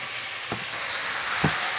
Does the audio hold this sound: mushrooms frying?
yes